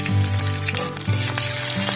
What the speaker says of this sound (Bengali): তেল গরম হয়ে গেছে, কাঁচা লঙ্কা চেরা দিয়ে দেবো।